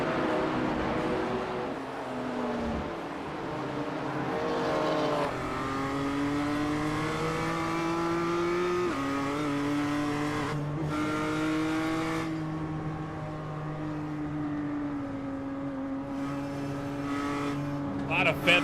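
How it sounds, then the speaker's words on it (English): Race car engines revving and shifting through a technical section of the Nürburgring in a racing video game, a continuous close engine drone with rising and falling pitch as the cars accelerate and shift, under steady commentary. "A lot of feathering the throttle throughout this very technical section of racetrack"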